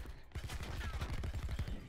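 Rapid burst of gunfire in Call of Duty Black Ops 4, a string of closely spaced shots rattling over about a second and a half, fairly quiet in the mix.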